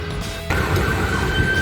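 An ambulance siren sounds briefly in Te Puke, New Zealand, with a sustained wailing tone rising in over traffic noise after a short sharp onset.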